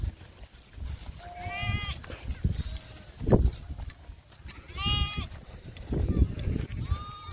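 Sheep in a herders' sheep pen bleat twice, wavering calls close by, over rustling, footsteps and low background chatter.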